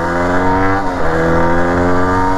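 Yamaha DT125X motorcycle engine running loud and close, a steady harmonic drone with slight shifts in pitch, heard alone without voices.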